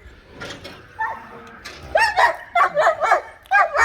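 Several dogs on a farm bark in quick bursts close by, sharp repeated yaps growing louder and denser toward the end, with a brief whine among them.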